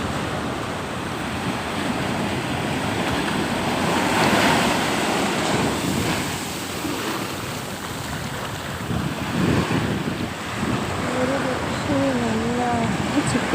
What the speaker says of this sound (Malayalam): തിരമാല മാത്രമേ വരുന്നുള്ളൂ, അല്ലാതെ ഇല്ല.